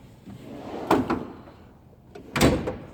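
A Snap-on KRL series toolbox drawer slides and knocks shut, two clattering bursts about a second and a half apart, close and fairly loud, with rattling contents.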